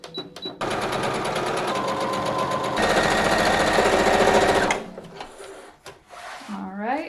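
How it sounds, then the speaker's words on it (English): A sewing machine runs steadily as it top stitches along the waistband of a circle skirt, a loud continuous whirring drive that stops after about five seconds, leaving quieter handling noise. "I'm gonna do a little top stitch along the top of the waistband"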